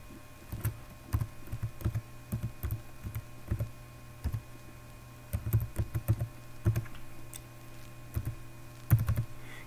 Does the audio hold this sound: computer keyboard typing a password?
yes